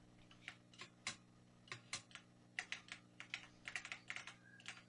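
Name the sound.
computer keyboard clicking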